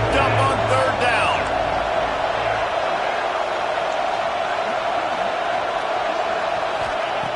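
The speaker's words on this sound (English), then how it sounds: "Crowd getting this defense whipped up on 3rd down." A stadium crowd at a Tennessee college football game roars steadily on a third down to fire up the defense, a broad sustained wall of noise beneath a commentator's voice.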